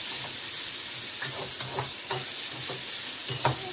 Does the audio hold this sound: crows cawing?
no